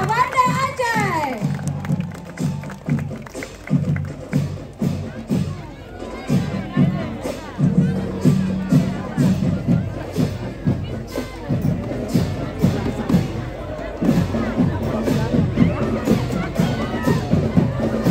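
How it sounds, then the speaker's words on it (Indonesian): Crowd at the PKA 8 cultural parade in Banda Aceh claps and cheers in lively bursts, with an amplified announcer's voice and children's shouts mixed through the noise. "Tepuk tangan yang meriah, Kota Banda Aceh."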